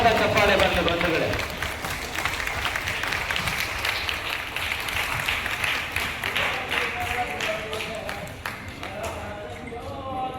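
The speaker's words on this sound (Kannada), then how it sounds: "ಆ ಮನಸ್ಥಿತಿಗೆ ನಿಮ್ಮ ಜೋರಾದ ಚಪ್ಪಾಳೆ ಬರಲಿ ಬಂಧುಗಳೇ" A ceremony crowd marking World Disability Day in the Bengaluru Ramanagara district breaks into applause at the start, then scattered clapping and taps continue under a voice on a loudspeaker, trailing off toward the end.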